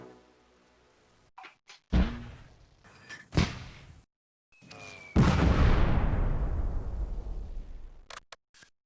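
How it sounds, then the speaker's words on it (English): Mortar rounds land in the WWII strategy game Close Combat: A Bridge Too Far. A few sharp, scattered impacts are followed by one heavy blast with a long rumbling decay, with quiet gaps between them. "they still got the mortars"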